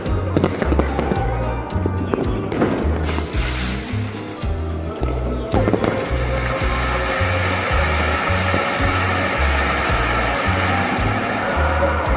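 Aerial shell fireworks are launched during a Kali Puja celebration in Kolkata, a whooshing launch and sharp bursts followed by a steady hissing roar, with a rhythmic low beat of music beneath and occasional voices.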